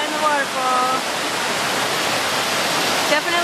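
Steady rushing roar of Akiak Falls, a waterfall in autumn, loud and continuous with a faint voice briefly audible over the water.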